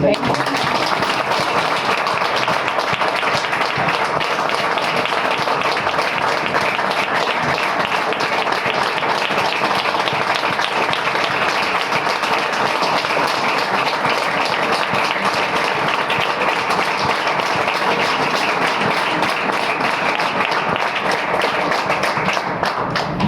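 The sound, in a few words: audience applause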